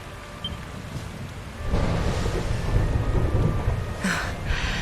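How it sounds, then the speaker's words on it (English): Thunder rumbles in Dragon Quest 11 on PS4, a low rolling boom swelling midway and continuing over steady rain hiss, with no voices. "Would you look at it thundering away out there?"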